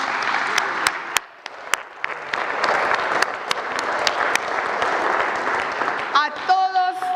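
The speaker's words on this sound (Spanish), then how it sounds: "así que un aplauso," An audience at a ceremony for Benito Juárez's 152nd death anniversary breaks into sustained applause, dense and steady with sharp individual claps. The clapping fades near the end as a voice begins speaking.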